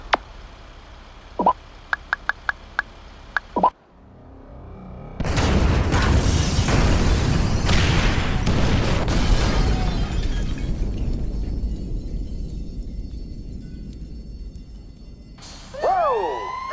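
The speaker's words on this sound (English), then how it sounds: "Detonate the incendiaries, Frank." Incendiary devices detonate in Grand Theft Auto V during a raid mission, a sudden loud burst of broad rumbling and crackling fire that sustains for about ten seconds before fading, preceded by sparse clicks and followed by a rising siren wail.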